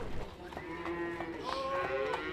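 Cattle lowing at a huge livestock market near Buenos Aires, Argentina, several drawn-out moos overlapping over a steady crowd-and-pen murmur, fairly close and clear throughout.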